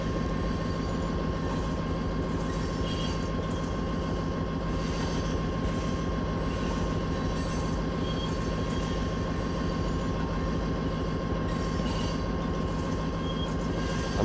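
A long coal train pulled by five locomotives rumbles past without letup, a dense, loud mix of engine drone and rolling wheel noise with a sustained tonal hum and faint squeals above it.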